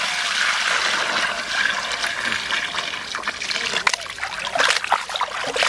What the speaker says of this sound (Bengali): মাংসটা ধুয়ে নেবো ভালো করে।